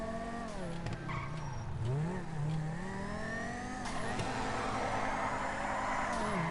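Engine of a car drifting in the video game GTA 5 rises and falls in pitch as the driver works the throttle, with tire squeal and skidding running continuously underneath at steady loudness.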